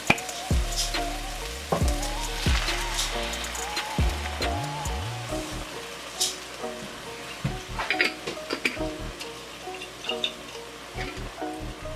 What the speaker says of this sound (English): now I'm going to add the PREGO roasted garlic and herb sauce